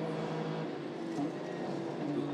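A 2014 Lone Star Le Mans race car lifting off the throttle early to save fuel, its engine note dropping from a loud steady roar into a rolling coast with no other sounds.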